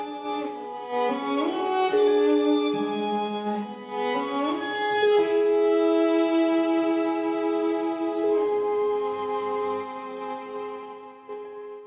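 A woodwind plays a slow, sustained, winding melody from Debussy's Prelude to the Afternoon of a Faun, with long held notes and gentle bends, clear and alone.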